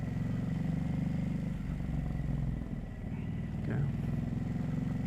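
A 2024 Ducati Hypermotard 950 RVE motorcycle rides through Tromsø town centre, its engine a steady, close, loud drone mixed with wind rush, easing briefly midway before picking up again.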